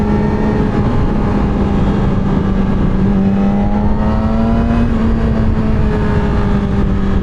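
A 2007 Yamaha R6 sport motorcycle engine heard while riding on the road, a loud, continuous droning whine that holds fairly steady with slight pitch rises and falls, masked by heavy wind rush and no talking.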